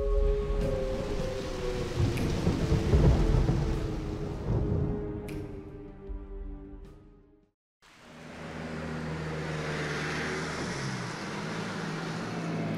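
Steady rain from a video game, Trails to Azure, with low rumbling that fits thunder, loud and continuous throughout; the sound drops out briefly near the middle before the rainfall resumes.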